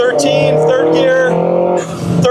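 A Nissan S14 with an SR20 engine pulls hard in third gear, its steady, buzzing engine note rising under load, close and loud throughout with a brief dip near the end.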